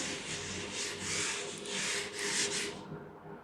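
Chalk being rubbed off a classroom board, a steady close scraping swish with a few rhythmic strokes over several seconds, ending abruptly, with no talking.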